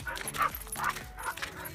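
A dog named Rocky barks at a Holika bonfire with three quick, close yipping barks in a rapid rhythm, and a voice can be heard faintly behind them.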